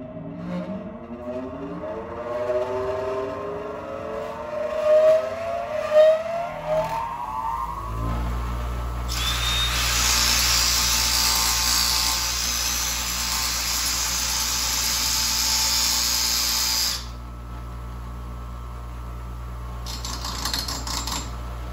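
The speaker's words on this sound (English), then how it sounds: "I'm gonna run the drill and put a bevel on each end of this so the weld filler rod will have a place to fill" An electric drill spins a metal filler rod to grind a bevel on its end for welding, a loud steady whirring hum that holds for several seconds and then cuts off, preceded by rising mechanical tones.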